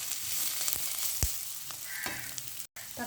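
Onions frying in a pan for a Sri Lankan Tamil-style crab curry, a close steady sizzle with a few scraping stirs and a brief cutout near the end.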